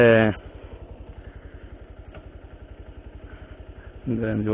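A Bajaj Pulsar 220 motorcycle engine idles close by with a steady, even, rhythmic putter. A voice is heard briefly at the start and again at the end.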